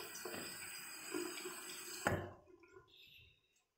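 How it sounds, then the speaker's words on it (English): Water poured over a guinea pig during a bath, a close splashing trickle that stops abruptly, followed by faint drips and quiet handling. "she's just having a bath and I'm just putting some water on her"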